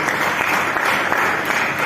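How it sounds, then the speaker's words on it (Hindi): An audience at an Ayurveda lecture bursts into loud, steady, dense applause that holds without a break. "उसके लिए एक बार जोरदार ताली बजाएं आप"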